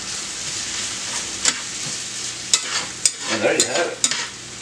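Eggs and leftovers for a breakfast burrito are stirred in a hot frying pan, with a steady sizzle broken by clinks and scrapes of a utensil against the pan, and a voice briefly speaks near the end.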